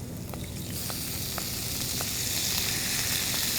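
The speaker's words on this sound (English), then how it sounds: "Add the squids, add some salt and some pepper. Toss this up on high heat." Squid sizzling over high heat in a hot pan with salt and pepper, a dense, steady frying hiss throughout, close and loud, with a few faint ticks and no talking.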